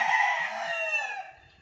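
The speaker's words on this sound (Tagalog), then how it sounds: "Kaya dinig na dinig po ninyo yung mga manok" A rooster crows once, close and loud, on a provincial morning among chickens, the call holding steady before tapering off at the end.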